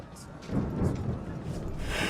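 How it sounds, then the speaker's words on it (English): A thunderstorm at sea in Assassin's Creed 3 gives a low rumble of thunder under steady rain and wind noise, rising after a brief quieter start, with no speech. "You wish us to sail into the storm?"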